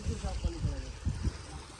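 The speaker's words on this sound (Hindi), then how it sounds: "फिलहाल इस पानी की आवाज़ सुना दो, कितनी प्यारी आवाज़ है पानी की।" Water flows steadily in a forest stream, a continuous close rushing bed of sound with voices talking over it.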